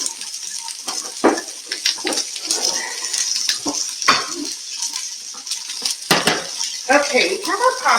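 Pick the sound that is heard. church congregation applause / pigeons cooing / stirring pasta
stirring pasta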